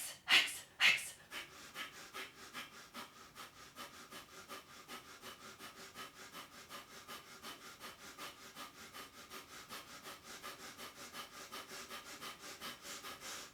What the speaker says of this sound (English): Stay here, deeply breathing, or inhale.